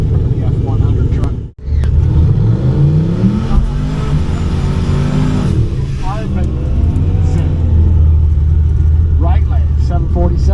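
Drag racing passes at a streetcar shootout event, a streetcar and an F100 truck launching and accelerating hard, loud engines revving through the gears with rising pitch, a brief dropout early, and an announcer talking over the racket throughout.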